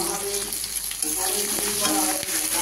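Ground cumin, coriander and turmeric frying in a pan, a loud continuous sizzle with a few scraping stirs and clicks of a utensil.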